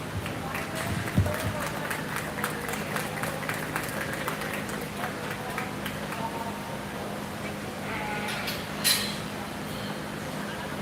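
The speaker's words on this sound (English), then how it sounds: "give a round of applause to those exhibitors" Applause for exhibitors at a 4-H/FFA meat goat show at a county fair, a scattered crowd clapping with a long spread of claps, heard faintly in a busy arena alongside talk over the PA.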